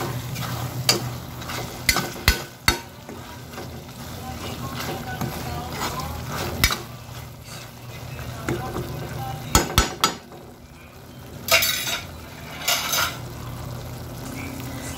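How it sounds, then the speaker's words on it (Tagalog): Fish being stirred and mixed with lemon juice in a kitchen, with soft scraping and wet stirring and a few sharper clinks against the bowl, under a low background hum. "So, lagyan natin ng lemon juice o lemon para mawala-wala naman yung langsa. So, i-mix natin."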